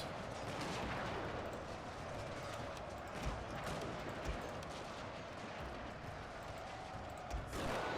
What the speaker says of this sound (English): The hope is that these guys are going to shoot.